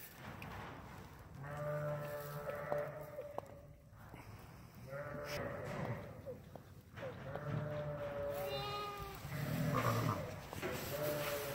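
Ewe sheep bleating repeatedly an hour after lambing, at a university lambing clinic, loud and fairly close, with a few faint bleats from other sheep and some low talk and barn noise underneath.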